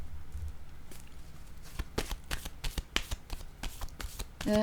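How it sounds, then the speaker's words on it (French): A tarot card is drawn and handled from a deck, producing a series of short papery flicks and shuffling snaps in quick irregular succession, close and fairly quiet, with no talking. "je vais piger une carte ici"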